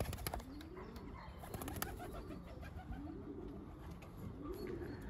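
Soft, rhythmic pigeon coos repeat roughly every second and a half over steady background noise, with a few faint chirps and rustles.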